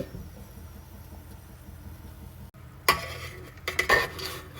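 A cooked ribeye steak is lifted out of an air fryer basket with metal tongs, giving a few close scraping clanks and rattles toward the end after a quiet stretch of faint hum.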